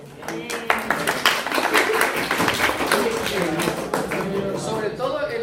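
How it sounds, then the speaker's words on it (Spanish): A lecture audience applauds, with dense, steady clapping from many hands filling the room and a voice talking over it. "Sobre todo el aplauso es por ser valiente."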